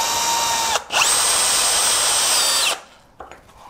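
A power drill drives a screw into OSB board while building a scrap-wood storage cart: a brief burst, then a steady high motor whine for about two seconds, close and loud, ending abruptly with no talking.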